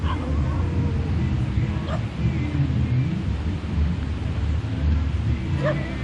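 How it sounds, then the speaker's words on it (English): Dogs bark near Seminyak Beach in Bali, several short yelps and barks rising at intervals over a constant rumble of outdoor street ambience, with a faint murmur of voices in the background. "There's the dogs."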